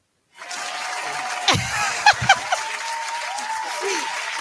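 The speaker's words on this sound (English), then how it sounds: "Do that clap." An audience at a talk on youth empowerment breaks into steady applause that starts abruptly and continues throughout, with a few louder claps and some light laughter mixed in.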